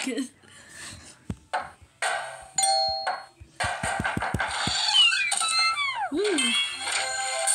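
Souvenir doorbells from a collection ring in quick succession, bright dings and chimes with sliding tones, close and loud, interleaved with sharp clicks and a short voice.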